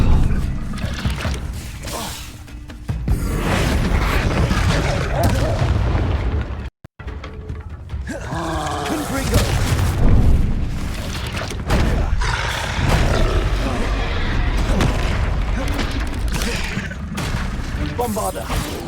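Confringo spell blasts in Hogwarts Legacy burst out as repeated booming explosions and crackling impacts, loud and layered over game music and effects, with a player speaking at times during the spellcasting.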